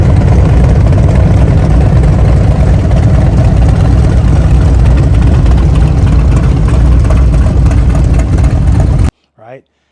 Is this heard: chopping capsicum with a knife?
no